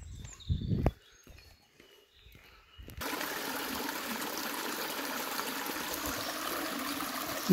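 Mountain spring water flowing in a German forest stream, a steady close rushing babble starting abruptly after quiet footsteps and rustling.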